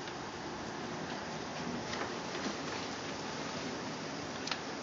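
Hail falling during a storm in Savannah, Georgia, a steady dense patter like heavy rain hitting surfaces, continuous and fairly even with a few sharper impacts.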